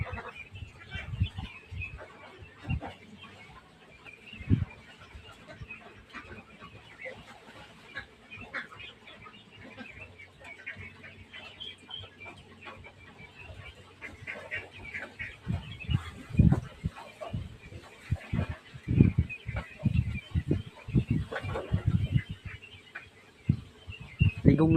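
Ducks splashing and bathing in a homemade swimming pool on a farm with a large flock, giving scattered quacks and clucks with bursts of water splashes that grow busier and louder toward the end.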